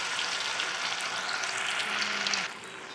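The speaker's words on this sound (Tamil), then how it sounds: "நான் எண்ணெயில் பொரிக்கிறேன்." Steady crackling sizzle of fish frying in hot oil, continuous and close, easing slightly near the end.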